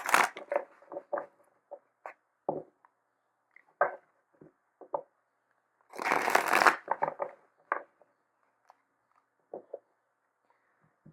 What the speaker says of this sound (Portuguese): eu acho importante também embaralhar na frente de vocês, para vocês verem que eu não pré-seleciono cartas.